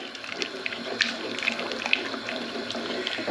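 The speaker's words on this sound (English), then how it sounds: "So that goes in together with 500 millilitres of water." About 500 ml of water goes into a pot of ancho chilli pork stew, a close, even pouring splash with a few brighter drips and clinks over it.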